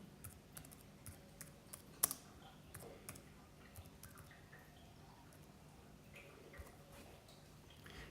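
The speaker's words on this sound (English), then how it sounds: "I will type in Google Classroom." Typing on an iPad's touchscreen keyboard, a faint run of soft, irregular taps and clicks with one sharper tap standing out, over a quiet room.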